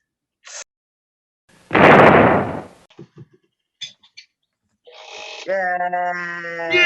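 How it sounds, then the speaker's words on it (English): A single loud explosion booms and rumbles for about a second amid silence, followed by scattered small knocks and a bleating animal-like cry. "I'm gonna do the explosion!"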